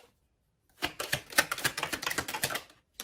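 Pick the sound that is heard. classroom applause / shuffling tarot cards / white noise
shuffling tarot cards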